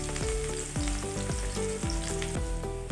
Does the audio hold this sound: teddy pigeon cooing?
no